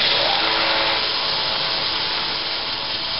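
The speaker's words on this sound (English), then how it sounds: "I'm just going to use my bandsaw." A bandsaw cuts through metal pipe with a loud, steady, close grinding rasp that holds an even level without pauses throughout.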